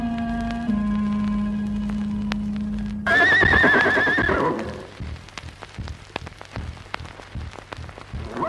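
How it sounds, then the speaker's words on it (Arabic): In a Moroccan radio drama, a horse gives a loud, shrill whinny after a steady tone, followed by scattered hoof clip-clops and rain-like patter. "الحصان وقف يا مولاي. ما عرفت شنو به."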